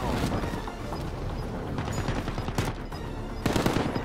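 Bursts of gunfire in the video game Call of Duty: Modern Warfare, loud and close amid a steady rumbling game mix, with a sharper cluster of shots near the end and a voice talking over it.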